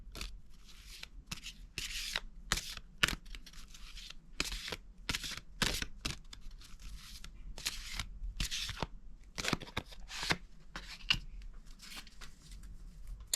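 Oracle cards riffled and shuffled by hand, a steady run of soft papery bursts and flicks, fairly faint and close, with no talking.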